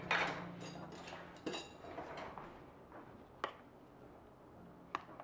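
Spoon clinking against a dish while making lemon trifle, a few sharp, separate clinks spaced apart over quiet kitchen background.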